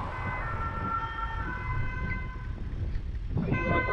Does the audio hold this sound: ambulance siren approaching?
yes